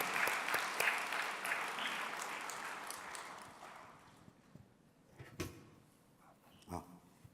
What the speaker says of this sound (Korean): 따뜻한 박수로 또 맞아주시면 감사하겠습니다.